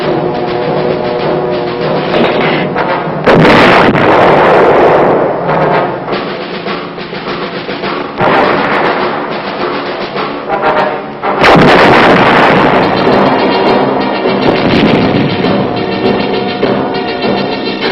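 Heavy artillery guns of the 101st Airborne in Vietnam boom repeatedly, loud and continuous, with two especially strong blasts and rolling rumble filling the gaps.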